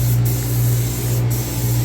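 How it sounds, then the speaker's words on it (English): Spray paint hisses steadily onto a car in a garage, a loud, continuous close-up spray with a low machine hum beneath and a couple of brief breaks in the hiss. "we're gonna spray and we'll check back in a bit"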